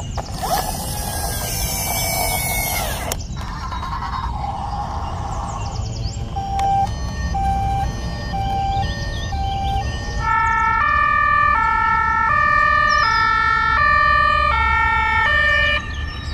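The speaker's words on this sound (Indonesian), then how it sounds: "Wow, mobil ambulan." An ambulance siren wails in a loud, repeating two-tone pattern, preceded by mechanical clicking and whirring, with no talking over it.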